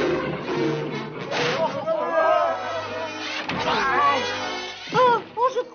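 A large cat yowls in drawn-out, wavering cries mixed with busy voices, ending in a couple of sharp rising meows, in a French-dubbed Smurfs cartoon.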